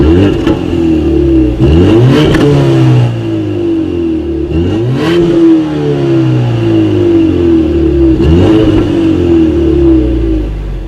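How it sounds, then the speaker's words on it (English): A 2019 Ford Mustang EcoBoost with dual exhaust outlets and chrome tips revs repeatedly, loud close engine pulls climbing and falling in pitch several times in a row, with no talking. "As always, here is that exhaust clip."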